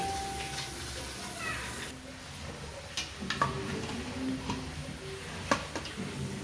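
Greens and meat cook in a pan with a soft, low sizzle, broken by occasional clinks and stirring scrapes of a utensil against the pan, and a voice talks over it.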